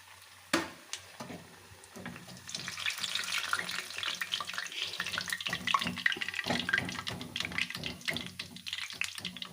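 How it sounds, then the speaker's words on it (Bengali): Cabbage and chicken pakoras fry in hot oil, a steady crackling sizzle that builds after a sharp clank near the start, with scraping and stirring noises as the fritters are turned over. "সবগুলো পকোড়া এবার এইভাবে উল্টে পাল্টে ভেজে নিতে হবে ভালোভাবে যেন ভিতরে কাঁচা না থাকে"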